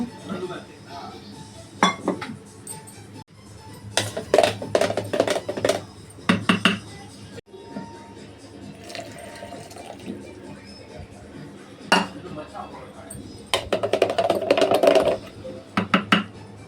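Ingredients being stirred together in a kitchen vessel, with repeated clinking of metal utensils against the pot in irregular bursts, under intermittent talk.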